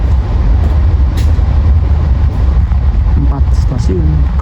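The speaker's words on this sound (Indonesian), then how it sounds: "cuma 2 menit Taksaka diberangkatkan kembali" Taksaka New Generation train pulling away from Kroya station at night, a loud steady low rumble of the moving train with faint squeals and clatter over it, and a voice speaking faintly at one point.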